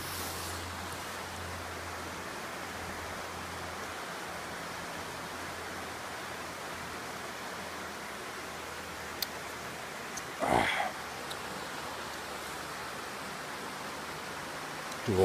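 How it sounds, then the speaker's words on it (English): A steady outdoor rush of a waterfall pouring into a river fills the scene as constant broadband noise, with a brief louder disturbance partway through. "You saw the waterfall in the river there."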